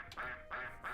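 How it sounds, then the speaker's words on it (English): Three quick, bright honk-like calls from geese in a retro video game sound in an even rhythm over about a second, clear and close with nothing else around them. "Hooray, more geese."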